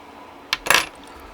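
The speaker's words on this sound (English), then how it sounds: "we'll just come on in with our scissors and snip off that stem" Scissors snip off a fly's stem during fly tying: a quick metallic click followed by a brighter, slightly longer snip, close and clean against a quiet room.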